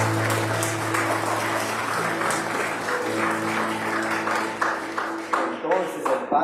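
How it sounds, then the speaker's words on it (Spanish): A congregation at a Sunday Mass for the Baptism of the Lord claps steadily, the sound thinning toward the end, while a low sustained tone, probably an organ or sound system, hums underneath. "Desen un fuerte aplauso por celebrar."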